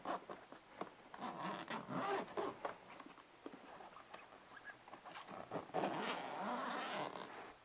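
A zipper runs along the top of a Nomatic travel backpack, close and quiet, in rough rasping pulls mixed with fabric rustling and handling noise, with no talk.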